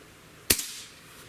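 A single sharp shot from an Air Arms S500xs air rifle, a crisp near crack with a brief tail fading out, alone against faint background hiss.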